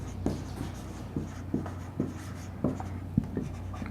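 Pen writing on paper while working out a geometry problem on triangle ratios, with close, soft scratchy strokes and taps in an irregular rhythm, alone without talk.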